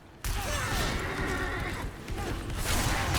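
A horse in a video game neighs loudly in a long whinny, close and prominent, with game noise continuing underneath.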